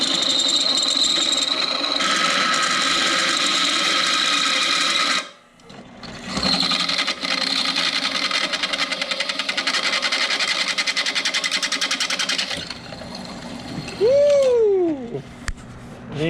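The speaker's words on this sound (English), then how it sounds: "And I think that drill bit's done." A power drill bores holes in an old car part during a dune buggy rebuild, whirring loudly and steadily, halting briefly once, then stopping before a short rising and falling whine at the end.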